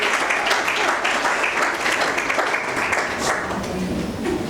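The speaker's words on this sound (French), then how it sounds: "applaudissez pour vous" An audience in a school hall applauds steadily and loudly, a dense wash of many hands clapping at close range with no break, a voice faintly mixed underneath.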